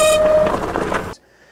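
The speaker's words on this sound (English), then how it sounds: "the rear brake squealed really bad" Rear brake on a Wired Cruiser e-bike squealing: a loud, sustained high-pitched squeal with a steady tonal line that cuts off abruptly after about a second, leaving near silence.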